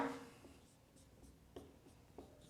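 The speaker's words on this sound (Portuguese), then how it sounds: "vou escrever até embaixo, o empuxo" Writing on a board during a physics lesson on Archimedes' principle, with faint, close scratchy strokes and a few light taps in a quiet room.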